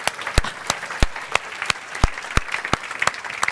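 After an entrepreneurship talk, an audience applauds with a blend of scattered clapping and a few sharp, regularly spaced louder claps standing out in a quick steady rhythm, moderately loud throughout.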